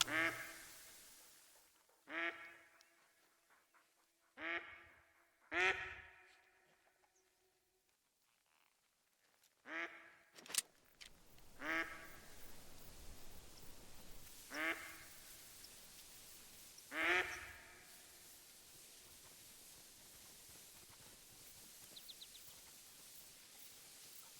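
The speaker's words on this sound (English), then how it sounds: "I hear duck over here." Ducks in the hunting game TheHunter: Call of the Wild give a series of distinct quacks, spaced a few seconds apart. They sound moderately close against a faint hissing ambience.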